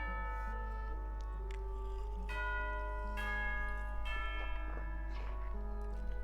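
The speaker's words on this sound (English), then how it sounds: "You hear the sound of the bell?" A tea-time bell in Narzissenkreuz Quest rings in several clear, resonant strikes that sustain and overlap, sounding over a steady low hum and soft background music.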